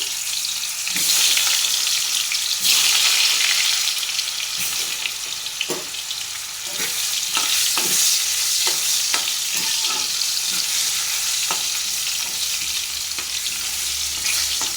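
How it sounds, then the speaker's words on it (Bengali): Potatoes frying in hot oil in a wok, a steady loud sizzle running throughout with intermittent clacks and scrapes of stirring, no voices. "মাংসর জন্য প্রথমে আলুটাকে ভেজে নিচ্ছি"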